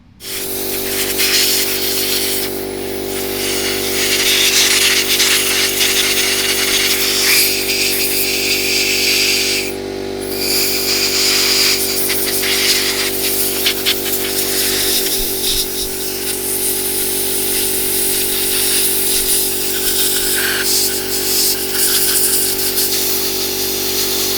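Compressed air blasts steadily through a gun during cleaning in a garage, a loud continuous hiss with slight shifts in intensity that runs for the whole stretch, close to the microphone and with no talking.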